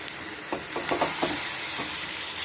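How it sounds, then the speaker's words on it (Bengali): Bengali spice paste (masala) frying in oil in a pan, a steady close sizzle and hiss broken by a few soft stirring scrapes, fairly loud with no voices. "এখন দেখো আমার মশলাটা কষানো হচ্ছে"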